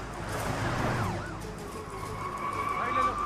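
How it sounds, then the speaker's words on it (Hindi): A police car siren wails in rising and falling sweeps, moderately near, while people talk over it in Hindi and traffic rumbles underneath. "पुलिस की गाड़ी आ रही है"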